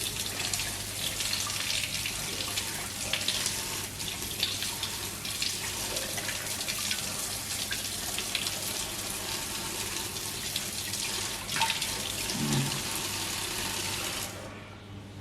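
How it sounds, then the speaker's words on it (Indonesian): Water runs steadily from a tap in a continuous hiss and splash, with small shifts in flow and no voices, in a chemistry lab. "Nah, kita bisa mendinginkan dengan bantuan air mengalir."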